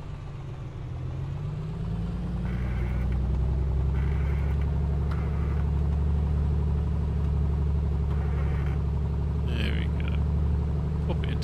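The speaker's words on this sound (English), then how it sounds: "So we're going to do a quick run-up check." A single-engine Comanche 250 in a flight simulator holds a steady low, droning engine rumble that climbs slightly after the first second and then stays constant throughout a run-up.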